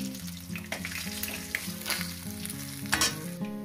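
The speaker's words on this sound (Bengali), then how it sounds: "বাদ বাকি মাছগুলো ভেজে নিয়ে ফিরছি।" Fish fries in a pan with a close, crackling sizzle and occasional stirring pops, layered over a steady tonal background melody. No one speaks.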